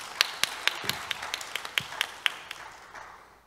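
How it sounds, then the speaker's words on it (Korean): A small audience gives scattered applause after a panel speaker at a 2024 WCIF discussion on culture and technology: about a dozen distinct, sharp claps spaced through the first few seconds, thinning out and fading to quiet. "박수 부탁드립니다"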